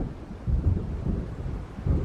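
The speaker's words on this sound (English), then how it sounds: "It seems there's a storm coming." Low rumbling thunder of an approaching storm in the video game Alan Wake, rolling continuously with swelling peaks over light rain-like noise, no voices.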